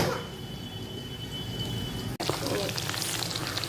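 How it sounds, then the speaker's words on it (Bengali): Chicken 66 pieces frying in oil, a busy crackling sizzle that dips briefly then flares up again, bright spattering pops close by with no clear talking. "এইভাবে ভাজতে বসাবো, ভালো করে ভাজা"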